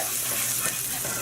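Butter sizzles steadily in a pan on low heat for an omelette, a soft continuous crackle and hiss held close with no talk over it.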